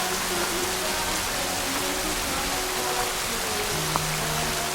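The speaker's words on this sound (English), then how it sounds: "So it just started downpouring on us once again" Heavy rain pours down across a crowded Maui parking lot during a road-to-Hana trip, a dense, even hiss of drops that stays loud and unbroken, with a faint tonal hum beneath.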